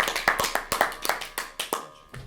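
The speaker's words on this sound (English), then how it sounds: "Let's give some applause." Sparse, fairly faint hand claps from a small group of players after a round of a social deduction party game, about nine distinct claps in a loose rhythm with no talk.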